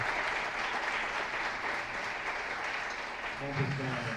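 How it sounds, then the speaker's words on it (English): Dense, steady applause from a forum audience thanking a discussion panel, a continuous wash of many hands clapping at once with no clear gaps. "Now, a round of applause to all of them."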